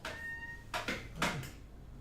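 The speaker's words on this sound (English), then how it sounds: "my cat is screaming at me" A pet cat meows insistently nearby, two drawn-out cries in quick succession after a brief electronic tone, set against a quiet indoor background without speech.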